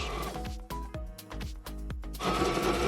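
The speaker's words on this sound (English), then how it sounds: "I'm just gonna take it to the sewing machine and double fold hem it all along the edge" A sewing machine stitches a double-folded hem at close range, its rapid rhythmic stitching whirring on with no voices.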